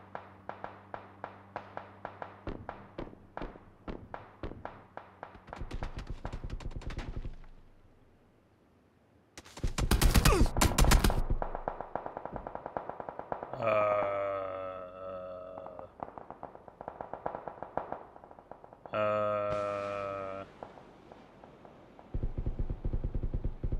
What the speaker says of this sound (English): He is shooting very fast to get all those.